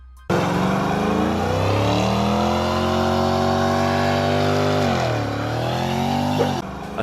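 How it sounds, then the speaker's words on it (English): A 3-valve Ford Mustang doing a burnout on a wet surface at a burnout competition: the engine snaps to a loud, sustained high-rev roar that holds and wavers for several seconds, dips briefly, then cuts off abruptly. "A 3-valve Mustang entering the burnout competition."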